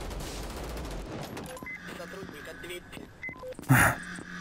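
Bursts of gunfire in the shooter game VLADiK BRUTAL, a rapid fusillade early on, then scattered shots amid game effects and a loud closing blast, mixed with voice.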